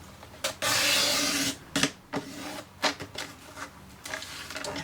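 A paper trimmer blade slices through a sheet of card for a handmade card: one steady rasping cut of about a second, then a few soft clicks and handling taps close by.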